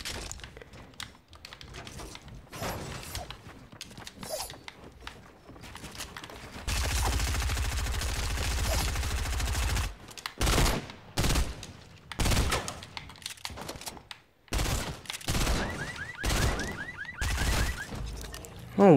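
SMG gunfire in a Fortnite match: a sustained burst of rapid automatic shots, followed by scattered shorter bursts and clicks, loud and close with little talk.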